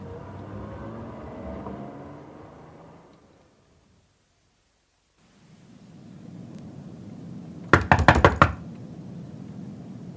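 Heavy knocking on the door of a members-only club: a tight burst of about five loud thumps that comes suddenly after a quiet, hushed stretch.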